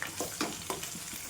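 Onion and garlic with curry leaves frying in a pan, a soft steady sizzle with a few stirring scrapes and small bursts over a short stretch.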